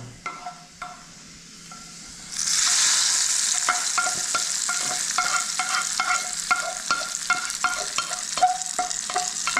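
Onions frying in a pan for a green mango curry: quiet light taps at first, then a loud sizzle bursts in after about two seconds and continues steadily, punctuated by regular scraping stirs of a spoon against the pan.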